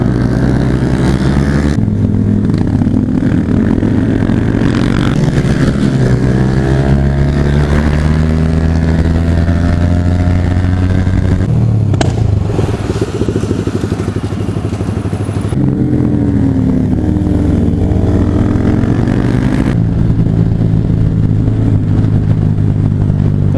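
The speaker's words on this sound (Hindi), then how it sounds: "तो भाई चारों बाइकों में फुल कस्टम एग्जॉस्ट है।" Four motorcycles fitted with full custom exhausts cruise on a highway, their engines droning loud and close with rising and falling revs, gear changes and wind buffeting, continuous throughout with no talking.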